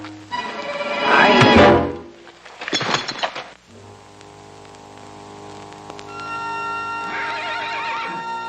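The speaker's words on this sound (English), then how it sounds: "The horses are loose." Loose horses whinny loudly twice in quick succession amid thuds and hoof noise, then sustained music tones take over with another high horse call near the end, no speech.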